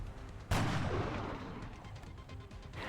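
Sniper rifle shot in the video game XCOM Enemy Unknown: one sharp, loud crack half a second in, followed by a long rumbling tail that fades under a steady game background.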